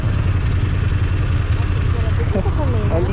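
Motorcycle engine idling outdoors on a trail, a steady low rumbling throb throughout at close range, with a person talking over it near the end.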